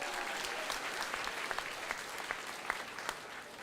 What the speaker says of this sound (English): we'll give her a short applause and she'll be back here in a few weeks.